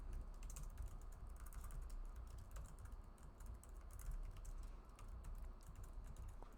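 Continuous keyboard typing while entering code in a React web app project, steady clustered keystrokes at moderate level with a low background hum, no talking.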